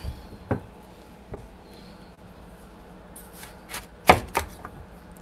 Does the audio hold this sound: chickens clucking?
no